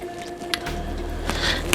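Thick beef stroganoff sauce with sour cream is stirred in a pan, giving a continuous wet squishing and sloshing with a few louder splats, close up and without talk.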